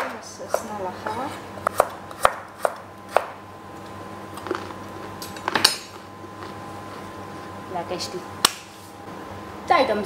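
Knife slicing vegetables such as red pepper and onion into thin slices on a cutting board, irregular sharp chopping taps with occasional clinks of kitchenware, fairly close in a quiet kitchen.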